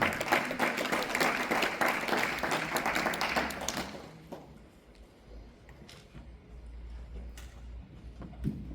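Church congregation applauding, a dense burst of clapping from many hands for nearly four seconds, then fading to scattered claps and quiet room noise.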